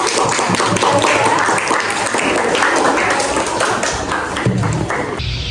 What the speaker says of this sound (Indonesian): Beri tepuk tangan untuk ibunya.